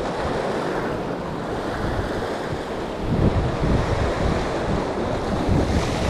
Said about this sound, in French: Putain, ce vent, c'est dingue, hein.